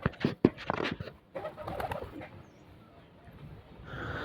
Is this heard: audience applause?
no